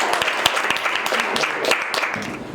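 An audience at a poetry gathering breaks into dense applause, with many hands clapping close and lively for a couple of seconds, fading slightly at the end.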